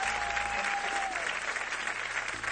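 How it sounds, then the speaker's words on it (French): A studio audience on a French singing game show claps in dense, sustained applause that fills the whole moment, loud and close, with no talk over it. "déjà on peut l'applaudir"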